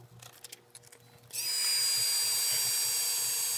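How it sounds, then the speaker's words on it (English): A heat gun blasts on after a quiet moment, setting copper embossing powder on a stamped card with a loud, steady, hissing blower whine that continues to the end. "Heat set the embossing powder."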